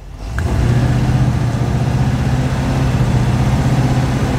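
A car engine runs steadily with a deep, sustained drone and a faint rise as the throttle is worked, loud and close with no talk over it, during a test of vacuum advance ignition timing.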